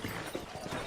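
Horse hooves clip-clopping in a video game, a quiet rhythmic patter of hoofbeats over a low game soundscape, lasting about a second.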